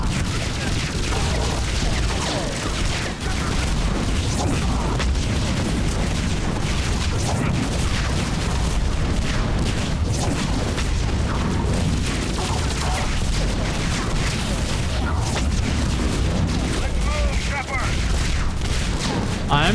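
Dense, rapid bursts of video game gunfire crackle almost nonstop, with booms and impacts layered in and a voice talking over the barrage.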